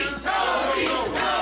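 Crowd at an APW professional wrestling match cheering and shouting, a loud, sustained roar with rising yells.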